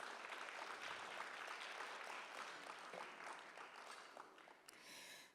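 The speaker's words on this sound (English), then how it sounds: "A round of applause to all the winners and the participants" At the 2024 KZN Youth Business Awards ceremony, an audience gives a soft, sustained round of applause for the winners and participants, a continuous wash of clapping that tapers off near the end.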